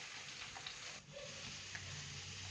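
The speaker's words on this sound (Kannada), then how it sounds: "ಚೆನ್ನಾಗಿ ಪುಡಿಯಾಗಿ ಹೆಚ್ಚಿಟ್ಕೊಂಡಿರೋ ಅಂಥ ಕ್ಯಾಬೇಜನ್ನ ಹಾಕ್ಕೊಳ್ಳೋದು. ಇವಾಗ ಚೆನ್ನಾಗಿ ಮಿಕ್ಸ್ ಮಾಡ್ಕೋಬೇಕು ಹುಷಾರಾಗಿ" Finely chopped cabbage stirred in a hot pan, with a steady soft sizzle and faint scraping and rustling of the shreds, close and continuous with no talking.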